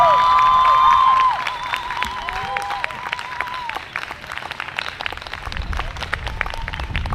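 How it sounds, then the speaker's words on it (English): Sustained audience applause at a bandstand rally: dense clapping from a crowd, with a few whistles and cheers at the start. It is loudest in the first second, then settles into steady clapping that carries on to the end. "Big round of applause once again from my end."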